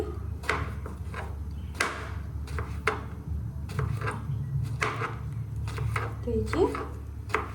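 Vegetables chopped with a knife on a board in a home kitchen: sharp, irregular knocks repeat close by at an uneven pace, with quiet speech murmuring underneath.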